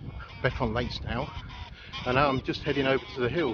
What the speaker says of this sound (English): you can probably hear all the geese in the background.